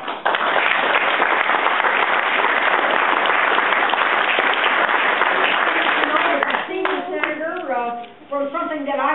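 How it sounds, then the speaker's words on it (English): A political speech crowd gives a dense, loud round of applause that tapers off as a voice begins speaking near the end. "give you a round of applause"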